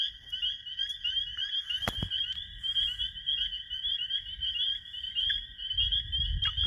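An American toad trills continuously, inflating its throat sac to call, a sustained high buzzing note with a faint second tone beneath it, close and steady, with a couple of brief knocks and low rumbling handling noise.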